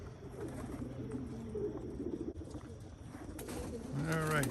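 Racing pigeons coo from a loft just after landing from a 26-minute flight, with low, rolling coos over busy outdoor background noise and a louder coo near the end.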